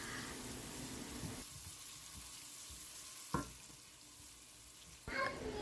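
Finely chopped onions frying in a pan, a soft, steady sizzle with occasional stirring clatters and bursts of louder crackle.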